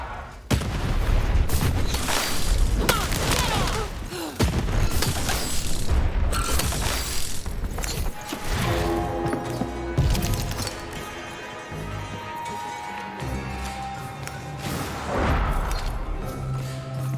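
Cannons firing in the video game Lost in Random, heavy booming blasts and sharp cracks in repeated bursts amid clattering mechanisms, followed by a sustained tonal musical stretch with further impacts.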